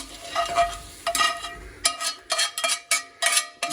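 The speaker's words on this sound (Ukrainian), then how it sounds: "Овочі можна пересипати в миску щоб вони охололи." Cooked quiche vegetables are tipped from a pan into a bowl, a spatula knocking them out in a quick series of close scraping clatters and soft thuds, with no one talking.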